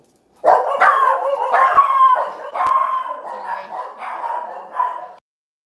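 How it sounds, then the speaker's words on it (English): Several house dogs bark and howl loudly and close by, a string of sharp barks running into drawn-out howling yelps that fade toward the end, with no talking over them. "Sorry, our dogs are loud and annoying."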